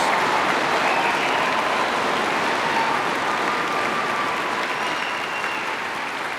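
Loud, dense applause from a large crowd at a FIRST Robotics Competition regional event, sustained throughout with cheering mixed in, close and steady.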